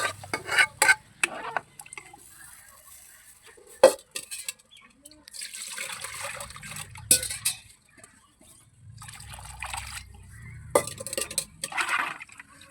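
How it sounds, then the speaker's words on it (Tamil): Tamarind broth is poured into a pan of village fish curry: sloshing, splashing bursts of liquid come in two spells, separated by quiet gaps with low voices and a few utensil knocks. "இப்போ நம்ம ரெடி பண்ணி வச்சுருக்க குழம்பு புளிக்காசில் இதை ஊற்றுருவோம்."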